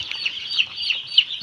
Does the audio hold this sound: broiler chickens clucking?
yes